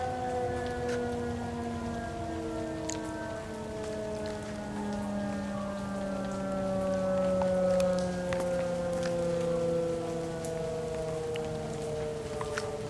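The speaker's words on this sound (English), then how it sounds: "I think it's wrapping up the sirens." Tornado warning sirens in south Dallas winding down, long wailing tones slowly falling in pitch across the whole stretch, mid-distance, over steady rain pattering on surfaces.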